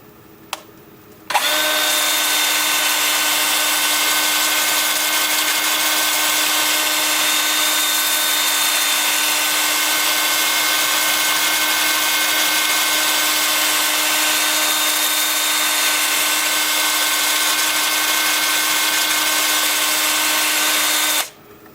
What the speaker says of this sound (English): And then with the lathe spinning forward at about 350 RPM.